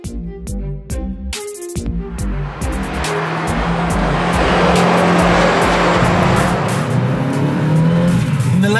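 A 1994 Lancia Delta HF Integrale Evo II drives hard, a rhythmic run of engine pulses swelling into a loud, sustained roar close by, with a tire-squeal edge and no voices.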